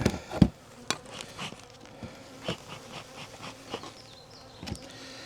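Honeybees buzzing around a heavy beehive during an outdoor yard inspection, a faint steady hum with individual bees droning past up close, mixed with occasional soft knocks and handling sounds.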